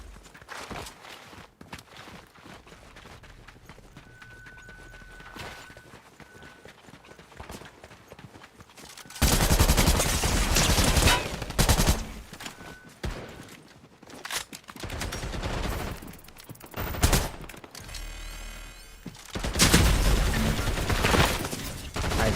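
Gunfire in a shooter video game, with bursts of shots that come in loud clusters in the second half, after a quieter stretch of footsteps and ambient game noise.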